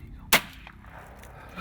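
A single sharp hunting rifle shot fired at a whitetail buck in a swamp, loud and abrupt with a brief decaying echo, followed by quiet outdoor ambience.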